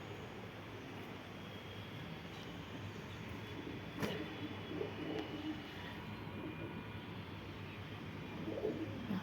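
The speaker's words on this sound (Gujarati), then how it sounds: "ચણતા ચણતા બાંધતા જાય કબૂતરા." Pigeons cooing on a house rooftop, soft repeated coos spread through a steady outdoor background hum, with a few faint sharp knocks and no talk.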